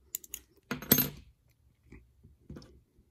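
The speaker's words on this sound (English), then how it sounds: "snug that up with this little wrench" A small wrench snugging a MicroSwiss hotend on a Sunlu S8 3D printer gives a few sharp metallic clicks and clinks, a brief cluster of scraping taps, then scattered faint ticks, close and quiet with no talk.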